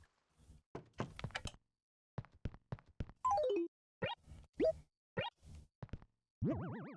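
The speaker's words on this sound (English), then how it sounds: "Whoa! Oh, right, a Mario cannon." A Mario-style cannon fires in the Animal Crossing video game: a bouncy series of cartoon pops, plops and boings with sweeping pitch glides, then a wobbling warble at the end. No one talks.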